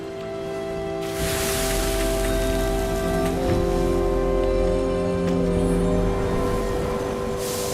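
Steady rain in the game Sky: Children of the Light, a dense even hiss of drops that swells after the first second and continues over sustained ambient music tones.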